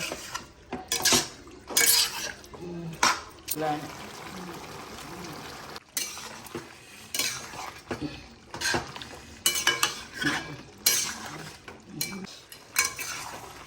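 Pepper chicken fry being stirred in a pan: repeated metallic scraping and clanking of a spoon against the pan in uneven bursts, with a light sizzle underneath throughout.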